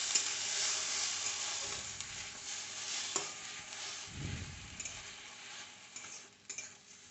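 Ginger and garlic paste sautéing in a pan for bhindi do pyaza: a steady close sizzle with occasional spatula scrapes and stirring clicks, no voices.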